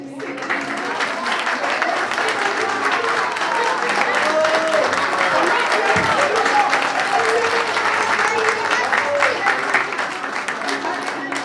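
An audience at a school play claps loudly and steadily, a dense wash of applause that carries on without letup from start to finish.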